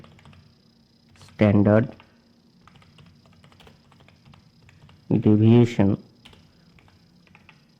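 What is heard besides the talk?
typing on a computer keyboard while writing LaTeX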